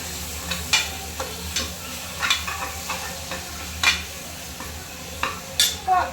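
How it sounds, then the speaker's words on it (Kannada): Tomato paste fries with mint and greens while being stirred, with repeated scraping strokes of a spoon over a low, steady sizzle. "ಟೊಮೊಟೊ ಪೇಸ್ಟ್ ಮಾಡಿರೋ 2 ಟೊಮೊಟೊ ಹಾಕಬೇಕು. ಚೆನ್ನಾಗಿ ಫ್ರೈ ಮಾಡಬೇಕು."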